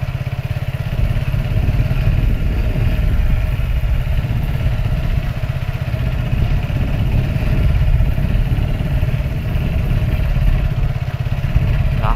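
A motorcycle engine runs steadily on a badly broken city road in Khulna, a loud, close, continuous low rumble with rattling clatter from the rough surface.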